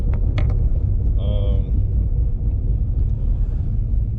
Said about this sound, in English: that loud ass noise y'all hear is the wheel bearing in the seat.